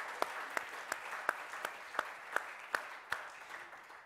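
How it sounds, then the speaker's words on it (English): Sparse, evenly spaced claps from an education conference audience, faint and distant, with a soft crowd hush between the hand strikes. "I think we need a much, much bigger round of applause for Khadija than that."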